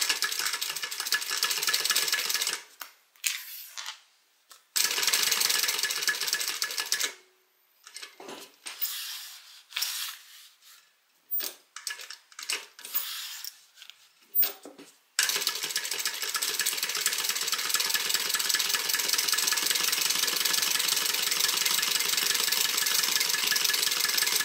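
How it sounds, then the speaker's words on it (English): A sewing machine stitching around the top of a fabric beverage bag, a steady close mechanical whir broken by several stops and starts in the middle, then running continuously to the end. "So I'll stitch here, go all the way around, and stop over here on the side."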